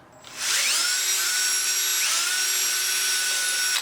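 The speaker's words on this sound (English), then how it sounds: "I'm just gonna drill out these holes so that it can fit the 1/420 tap" A power drill drilling out holes to fit a 1/4-20 tap whines up to speed and runs at a high, steady pitch, close and loud, with a brief dip partway through.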